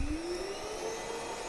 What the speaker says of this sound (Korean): 보통 청소기를 사용할 때 사용 시간이 길고 소음이 좀 작은 일반 모드를 사용하기 때문에 제 일반 모드로 청소를 하겠습니다